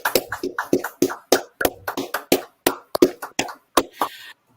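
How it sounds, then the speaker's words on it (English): A small group of show participants claps in a loose, uneven round, about twenty distinct close-up hand claps over several seconds rather than a dense crowd roar, with no talking. "So yet again, I think a 5-second round of applause, guys"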